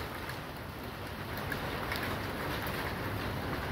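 A dense, continuous patter of rain and hail around 2 cm across falls during a violent thunderstorm, the steady hiss growing a little stronger as it goes on.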